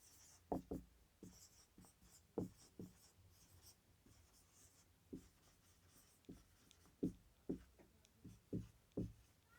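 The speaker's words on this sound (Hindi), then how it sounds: "सवाल ही लिख के आता हूँ मैं" A question is written out during a class 10 physics lesson, giving a series of distinct, knocking pen or chalk strokes with brief scraping tails. The strokes are close and fairly quiet, spaced unevenly, and no one speaks over them.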